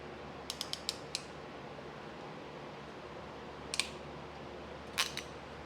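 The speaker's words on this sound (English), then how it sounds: "you just crimp one side at a time" A hand crimp tool squeezes a wire connector one side at a time, making a few sharp, quiet ratcheting clicks in short bursts separated by near silence, close up and alone.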